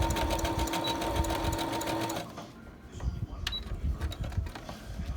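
A sewing machine stitches a fabric medical mask in a fast, steady run for about two seconds, then stops, leaving quieter handling noise.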